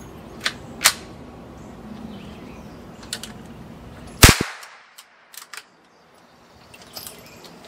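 22 LR rifle shots at a bulletproof backpack on a range, a few sharp cracks spread over several seconds, one loud close report standing out, with small clicks and handling noises between.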